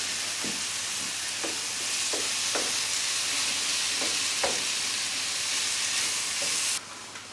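Fish and seafood sizzle steadily in a wide paella pan, a dense continuous frying hiss broken by several soft stirring scrapes, close and alone until it cuts off near the end.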